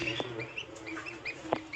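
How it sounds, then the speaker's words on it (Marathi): Soft, high peeping chirps from a newly hatched duckling, repeated several times at close range over quiet background. "आता आपलं दुसरं पण बदकाचं पिल्लू निघालंय"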